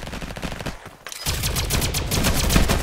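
Raygun fire in the Roblox game Flag Wars: rapid, evenly spaced electronic shots crackle loud and close in a quick burst, pause briefly, then resume in a denser continuous stream.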